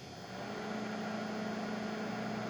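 Microwave oven running and cooking at 80% power, driven from a sine-wave supply, a steady electrical hum and buzz that holds level for a couple of seconds after a quiet start, with no voices.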